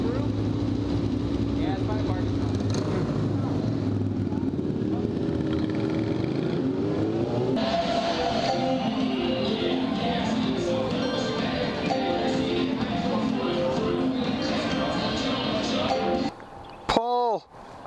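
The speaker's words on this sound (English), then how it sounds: "Did a burnout." A car doing a burnout, its engine roaring in a loud, sustained drone that climbs in pitch midway and then cuts off sharply near the end, with people talking and shouting over it.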